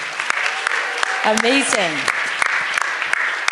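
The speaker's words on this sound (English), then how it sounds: "a big round of applause for Molly" An audience at a summit claps for a student vice president, a steady patter of applause running throughout while a voice speaks briefly over it in the middle.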